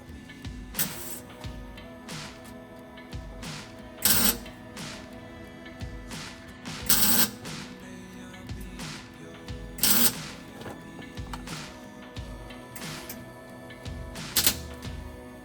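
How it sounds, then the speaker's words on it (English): A welder lays short tack welds attaching a new catalytic converter to the exhaust of a street truck, giving irregular crackling, buzzing bursts of a second or less, spaced apart with quieter gaps between, close and without talking. "Got a couple more welds to make."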